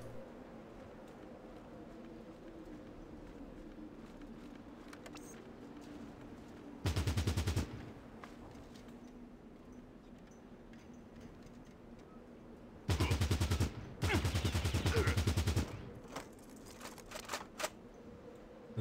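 Gunfire in the game Fallout Tactics: two loud bursts of rapid automatic shots, one short and one longer, split by a brief pause, over a steady low in-game hum and faint clicks.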